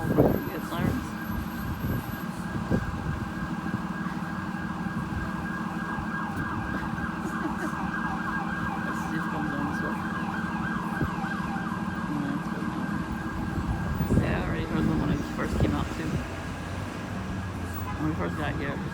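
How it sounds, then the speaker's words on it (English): Emergency vehicle sirens wail continuously on a city street, rising and falling in a steady sweeping pattern at moderate distance, with traffic rumble underneath and someone talking over them. "We get sirens."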